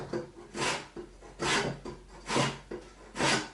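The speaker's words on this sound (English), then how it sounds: "Then we'll grate in our lemon zest." A lemon is grated for zest for a baked cheesecake, four rhythmic rasping strokes up close with short pauses between them.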